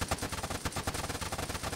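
Rapid automatic gunfire in the military shooter game Arma 3 forms a dense, loud stream of evenly spaced shots over a short burst, with no talking.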